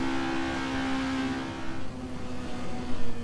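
An Alfa Romeo Giulia GTA engine in the racing game Assetto Corsa drones steadily at low to mid revs, a continuous buzzing hum with a slight swell near the end and no voices over it.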